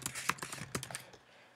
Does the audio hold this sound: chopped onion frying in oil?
no